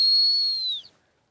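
A gundog stop whistle used in Labrador retriever training, one loud, close, shrill blast about a second long that falls slightly in pitch as it ends.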